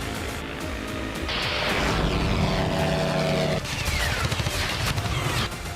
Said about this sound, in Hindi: रूस का ये लैंसेट ड्रोन हल्का, तेज और सटीक है।